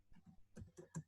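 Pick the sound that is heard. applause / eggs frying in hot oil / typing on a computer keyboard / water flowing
typing on a computer keyboard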